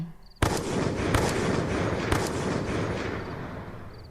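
Gun blasts in a narrated jungle hunting tale: three booming shots a second or so apart, each with a long reverberant rumble that keeps ringing and slowly fades afterward.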